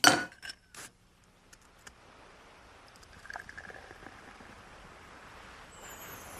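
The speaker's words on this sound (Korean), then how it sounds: "컵에다가 얼음을 어, 소리만 들어도 시원해" A few bright clinks of ice dropping into a glass at the start, then a faint crackling fizz as the cubes settle, with no talking.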